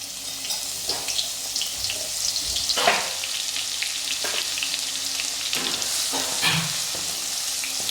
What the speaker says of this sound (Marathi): तेल चांगलं गरम झालंय बघा त्यात टाकूया आपण बारीक केलेला लसूण